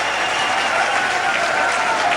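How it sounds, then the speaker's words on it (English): Rugby league crowd at a St Helens versus Leeds playoff applauding a penalty to Saints, a dense, even wash of distant clapping from the stands with no break. "Judging by the applause of the crowd, not before time."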